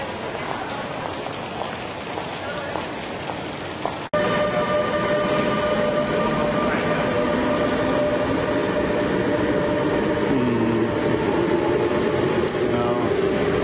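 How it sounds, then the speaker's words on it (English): Rumbling rail noise of a train moving through the station below Schiphol Airport, steady and fairly loud, with a sustained tonal whine and a sharp jolt early on. "Down below are the trains."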